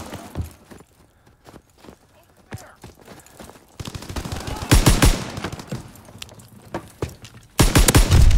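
Gunfire in Call of Duty WWII: scattered single shots give way to dense bursts of rapid automatic fire, loud and close, with a heavy final volley, as voices talk in between.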